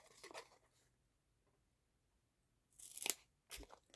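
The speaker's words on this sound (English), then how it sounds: "I'm going to cut the hole." A hole is cut in a layered paper craft tag: a brief crisp snip early on, then after a pause two close, sharp cutting and tearing crunches, faint overall.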